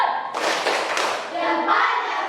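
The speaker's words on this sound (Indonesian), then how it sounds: "Oke, tepuk salut." Children in a classroom perform a patterned salute clap, a few sharp rhythmic claps mixed with their voices chanting along, close and moderately loud.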